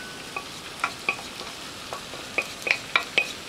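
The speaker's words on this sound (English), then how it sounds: "I'm going to take my pasta and mix that in. I'm just going to dump it all in this big pan" Cooked orzo pasta is tipped into browned sausage in a large pan and stirred, with repeated sharp scrapes and clinks of the utensil over a soft sizzle, close up and with no talk.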